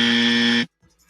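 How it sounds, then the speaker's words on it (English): Dummy buzzer sound effect on a comedy commentary show: a single loud, harsh electronic buzz lasting just over half a second, cut off abruptly and followed by near silence. "Can we give her the dummy buzzer, please?"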